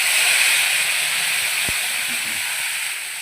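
Ginger, cumin and tomato paste hit hot oil with a steady, bright sizzle that holds close and loud, easing slightly toward the end, with a brief low knock partway through.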